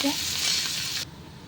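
Onion frying in a pan with curry leaves, a dense close sizzle that cuts off abruptly after about a second, leaving faint room tone.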